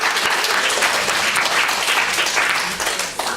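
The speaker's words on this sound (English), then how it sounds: "Can we have a round of applause for awesome people around the country?" A symposium audience gives a sustained round of applause, dense and even, with scattered voices beneath it before it thins out toward the end.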